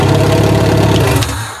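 A car engine runs steadily after its starter wiring is reworked, a loud, even idle with a dense low rumble that holds for under two seconds and eases slightly at the end, with no talking.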